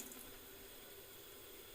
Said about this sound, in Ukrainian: Воду зливаю просто в раковину.